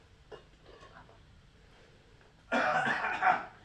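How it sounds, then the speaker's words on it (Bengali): In a village home kitchen, a person gives a short burst of coughs, loud and close, after a stretch of faint, quiet background. "ওইখানে বসে কাশি দেন"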